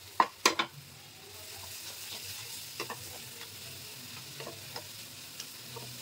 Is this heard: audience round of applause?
no